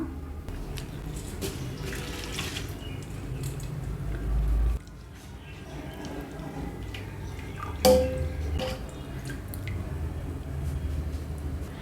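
Water pouring and splashing into a pot of soaked rice for chicken mandi, a steady close trickle with a few louder splashes and clunks, no talking.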